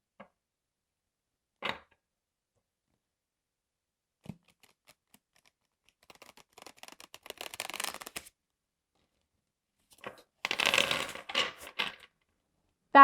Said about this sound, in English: That is how I riffle shuffle.